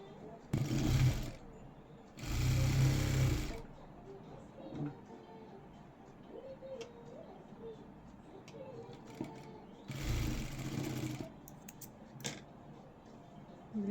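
A sewing machine stitches a blouse seam in three short whirring runs, each a second or so, separated by quieter stretches where a person talks.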